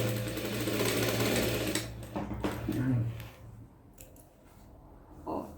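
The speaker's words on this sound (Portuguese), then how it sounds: "Aí, eu vou continuar a minha costura aqui, ó, começando a cava." Sewing machine whirs in a steady loud run while stitching fabric for a festa junina vest, then stops, leaving a few faint clicks and handling sounds.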